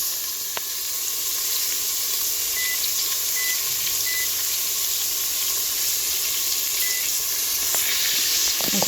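Beef sears in a hot pan with a steady, continuous sizzle and hiss that holds at an even level throughout, with no talking.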